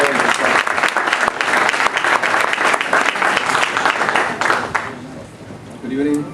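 A crowd claps for a boxer at a post-fight press conference after his bout with Chavez, loud sustained applause that fades near the end as a voice begins speaking.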